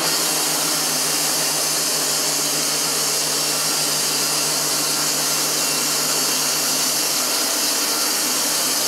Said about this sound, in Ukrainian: Верстат для переробки тонкоміру на брус. Фірми Вальтер Польща.